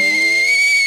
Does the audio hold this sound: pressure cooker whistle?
yes